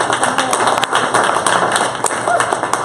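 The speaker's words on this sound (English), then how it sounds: "Give yourselves a round of applause." Audience applause after an improv comedy exercise at a live corporate event in Chicago, a steady wash of clapping with sharp hand taps throughout, dense and near, filling the full length.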